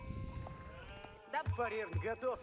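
Two sheep bleat in an Age of Empires match, each a short wavering cry a moment apart, following a stretch of game sounds and background music.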